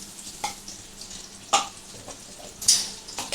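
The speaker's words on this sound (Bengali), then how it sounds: "আমি এর মধ্যে একদম দিয়ে দেবো কালো জিরে ফোড়ন" Nigella seeds tempering in hot oil in a pan for Bengali pabda fish tel jhal, giving a few sharp sizzling bursts and crackles against a quiet hiss, close by and with no talking.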